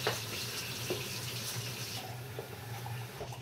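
Water runs from a tap into a Mighty Mixer shaker cup in a steady, moderately quiet stream with small splashes and knocks, close by and with no speech.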